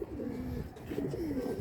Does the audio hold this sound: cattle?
no